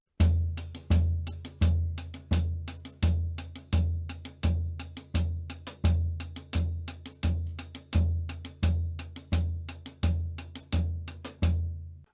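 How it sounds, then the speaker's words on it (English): A basic cumbia groove on a drum kit: a punchy bass drum on steady quarter notes under crisp closed hi-hat strokes, clear and close, looping evenly with no voices. "for the basic Kumbia beat on the drum set, the hi-hat imitates the guiro rhythm in classic cumbia"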